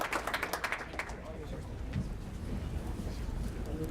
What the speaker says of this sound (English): She brought her cheering crowd with her, I think.